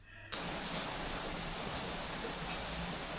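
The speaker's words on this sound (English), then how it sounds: "it's raining again, and a lot" Heavy rain pours down steadily outdoors, a dense, even hiss that starts abruptly and holds at a constant level with no talk.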